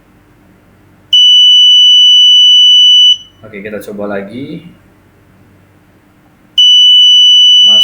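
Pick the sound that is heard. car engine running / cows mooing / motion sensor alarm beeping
motion sensor alarm beeping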